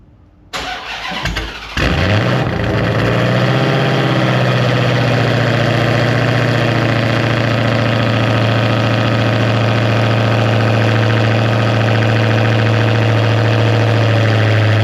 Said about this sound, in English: Let me give y'all a cold start.